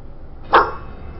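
A single short, close bark from a bulldog in the survival horror video game Haunting Ground, a sharp isolated yap standing out against near silence.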